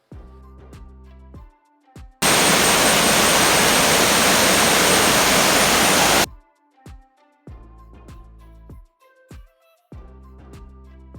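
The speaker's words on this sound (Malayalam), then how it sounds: "തോണിയങ്കാട് വാട്ടർഫോൾസ് എന്നാണ് ഇവിടെ അറിയപ്പെടുന്നത്. തോണിയങ്കാട്ടിൽ നിന്നുള്ള അരുവി ഇതുവഴിയാണ് കടന്നു പോകുന്നത്." Thoniyankadu waterfall stream beside the Vagamon road in monsoon flow: a loud, dense rush of water surges in for about four seconds, set between quieter stretches of tonal, voice-like sound.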